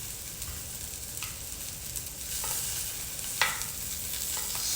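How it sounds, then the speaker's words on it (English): Mushrooms frying in a pan as they are turned over, a soft steady sizzle with light scraping and a few faint clicks of a utensil, fairly quiet and without voices. "Our mushrooms are cooking, so we just want to turn them over."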